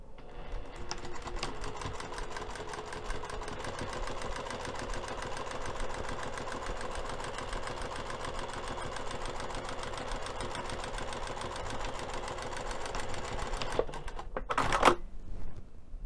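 A sewing machine stitches the side seam of a fabric storage bin lining in one long, steady run of rapid needle clatter, stopping near the end with a couple of brief handling noises.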